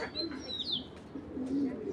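Low soft cooing of a racing pigeon repeating nearby, with a few higher chirps from other birds mixed in.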